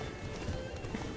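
Roach, a horse in the video game Witcher 3, gallops with quick rhythmic hoofbeats over a steady game background, moderately close.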